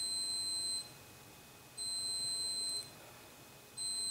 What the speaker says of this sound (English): That beeping is the coffee pot telling me it's clocking out.